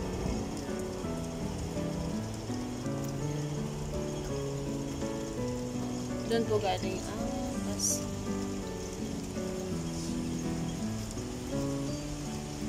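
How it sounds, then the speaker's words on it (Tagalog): Steady rain patters down while waiting for a bus, with a low tonal hum beneath and a person speaking briefly partway through. "papalakas na naman ang ulan"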